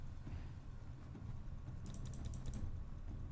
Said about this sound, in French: J'appuie toujours sur Tab.